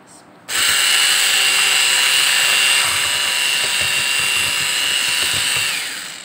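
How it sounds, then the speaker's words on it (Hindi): An electric mixer beats egg whites for a silky cake, starting abruptly with a loud, steady high whir that runs continuously and tapers slightly near the end, with faint knocks of the beaters against the bowl. "नाज़रीन अब हम सफ़ेदी को फेंट रहे हैं अंडों की।"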